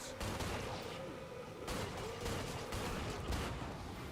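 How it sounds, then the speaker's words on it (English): Dense game gunfire from Killing Floor 2, a run of sharp shots stacked closely over a constant loud battle din, with no gaps or quiet between them. "I shoot."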